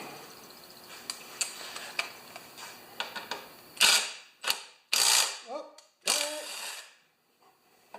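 A ratchet wrench with an 8mm socket works loose the carburetor on a Honda engine, giving several quick close bursts of ratcheting clicks separated by pauses, with quieter metallic handling and tapping earlier on.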